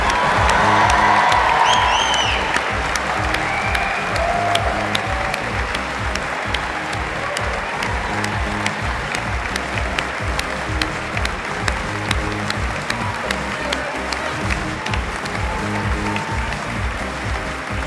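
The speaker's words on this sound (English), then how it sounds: "Could we offer a final round of applause to recognise your achievements?" A graduation ceremony audience gives a final round of applause. Loud, sustained clapping mixes with crowd cheering and a few whoops, staying strong and continuous throughout, with a tonal musical backdrop faintly underneath.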